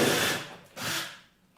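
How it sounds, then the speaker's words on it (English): A power drill bores a hole into an LED-lit couch table in two short whirring bursts, the first fading out before a second brief spin-up, heard close with no talk. "What I'm going to do now is drill a hole here,"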